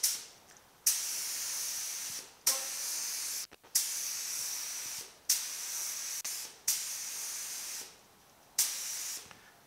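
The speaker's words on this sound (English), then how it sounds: "I'll get it into a gun and we'll go spray it out" Repeated bursts of a paint spray gun hissing loudly while spraying AMC Matador Red, each lasting about a second or two, separated by brief pauses, close up with no talking.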